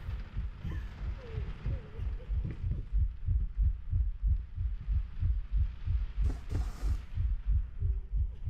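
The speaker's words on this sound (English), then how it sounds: "Okay, the heart beating." A heartbeat sound effect in the horror game Layers of Fear pulses as a steady, deep double thump repeating about three times a second, with a brief faint voice and scattered game noises over it.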